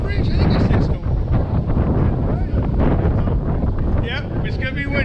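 Heavy wind buffets the microphone in loud, rumbling gusts throughout on a golf course, with faint voices underneath.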